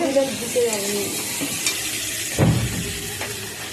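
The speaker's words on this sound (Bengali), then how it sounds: "ওই আলুটা একটু ভাজা ভাজা করে দিন বেগুনটা দেবো দিয়ে একটু ভাজা ভাজা করবো" Potatoes and eggplant frying in a pan, a steady hiss of sizzling oil with scraping stirring strokes and a brief louder clatter, close and continuous.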